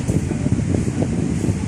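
Electric fan running close to the microphone at a snack corner, a steady whooshing airflow with a slightly pulsing low rumble, no talk over it.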